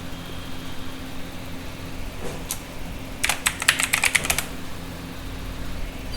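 Fingers type a password on a computer keyboard: a brief tap, then a quick burst of a dozen or so close, crisp keystrokes over a low steady hum, with no talking.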